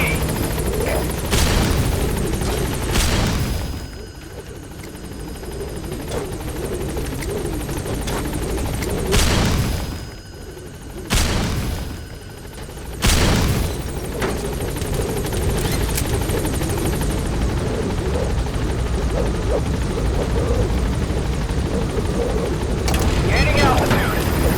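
Support helicopter B-Quad in Metal Gear Solid V, a loud continuous rotor thrum with brief dips and surges as it flies, heavy and close throughout with some game voices.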